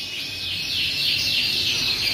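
A Yorkshire canary sings a continuous high, bright warbling trill with rapid repeated notes, close and fairly loud over a soft background hiss.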